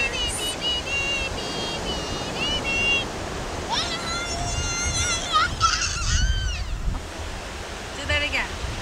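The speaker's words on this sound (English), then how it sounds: "Look at the birds." Geese honk in repeated, overlapping calls by the water, some loud and close, over a steady wash of surf-like noise, with people talking intermittently.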